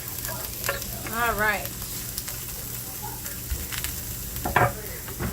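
Onions and garlic dropped into a heated pan with olive oil, sizzling and frying with a steady hiss and occasional stirring, someone speaking briefly over it.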